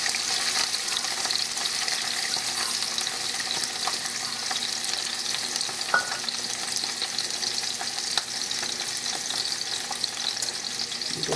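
Half a cup each of green peppers and onions fry in a pan, a steady crackling sizzle with occasional stirring scrapes and small pops, close and continuous.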